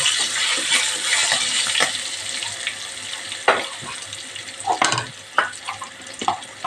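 Tempering spices with green chillies and asafoetida powder fry in hot oil while a spoon stirs the pan, giving a steady sizzle broken by close scraping and clinking strokes at irregular intervals.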